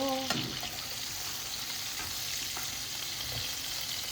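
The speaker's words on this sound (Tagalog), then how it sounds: "isusutay natin siya sa butter" Mushrooms sautéing in butter in a pan, a faint steady sizzle running throughout with a few light clinks of a utensil stirring.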